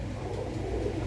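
Pigeons at a pigeon sale centre give soft, low cooing in a brief, steady stretch against a dull background rumble.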